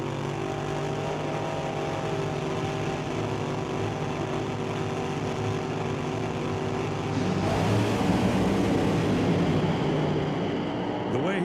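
A supercharged top alcohol dragster makes a run at an NHRA Northwest National Open Series drag race. A continuous, distant engine roar fills the track and grows rougher and louder partway through.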